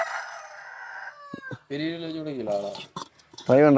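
A small hen in a domestic yard clucks and calls, with a rising crow-like cry, several broken clucking bursts and a louder call at the end, close and clear.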